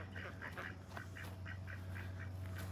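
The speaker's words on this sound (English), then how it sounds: "Just watch the ducks run into their" Ducks on a Florida farm quack in a steady string of short, quiet calls as they run into their enclosure on an evening, heard over a constant low hum.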